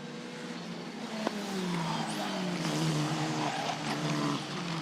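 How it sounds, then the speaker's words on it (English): Italian F4 race cars on Pirelli tyres at Paul Ricard, engines droning loudly as they pass with rising and falling pitch and thin squeals of tyre grip as they downshift, under continuous race-track noise. "Can hear the Pirelli tyres screeching for grip down through the gearbox."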